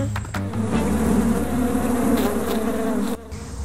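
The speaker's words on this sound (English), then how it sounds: "I don't think the bees were happy with us." Dense, loud buzzing of many bees at beehives fills the air continuously, a close swarming drone that stays steady throughout before easing slightly at the end.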